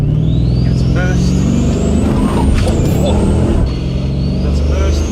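A twin-turbo Chevy Silverado pickup revs hard against the brake before launch, its engine droning loud and close with a rising turbo whine and an air-like hiss, while people talk over it.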